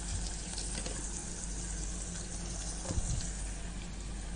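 Onions fry in ghee for a coconut milk biryani, producing a steady, dense sizzle that stays close and even throughout, with a faint stir or bump near the end.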